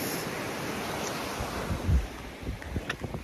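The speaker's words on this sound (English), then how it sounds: "the sounds of the waves and everything." Ocean waves wash at a beach in a steady broadband roar, with wind buffeting the microphone and a few soft thumps.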